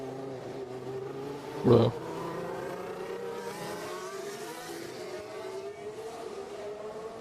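Formula 1 cars at a Saudi Grand Prix practice session. A rising and falling engine whine carries at moderate distance under commentary, with a short loud exclamation early on.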